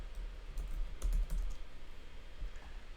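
Fingers tap on a computer keyboard in a quiet room, light clustered key clicks near the middle over a low steady hum.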